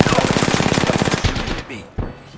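Rapid automatic gunfire from a shooter match in the video game Apex Legends, loud and close, firing in a steady burst before breaking off into a couple of sharp single shots.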